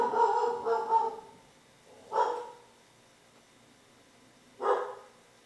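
A dog barks in three separate bursts, a cluster of quick barks at the start and then two single sharp barks spaced a couple of seconds apart, fairly close and loud against a quiet background.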